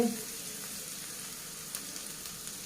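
Onion frying in oil in a pan for vegetable rolls, a soft, even sizzle heard close and fairly quiet throughout, with a faint clink at the start.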